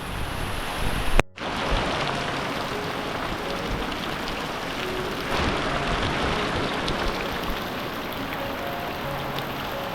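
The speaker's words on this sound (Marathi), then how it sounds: "बेकार पाऊस पडतोय खतरनाक वाला पाऊस" Heavy monsoon rain in the Konkan countryside pours in a dense, steady hiss throughout, loud and close, with a brief dropout early on and no voices.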